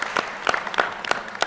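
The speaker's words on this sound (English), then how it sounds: "Give a quick round of applause for Bradley." Brisk applause from an audience at a school board of education meeting award presentation, a few bursts of clapping close by, with no talk over it.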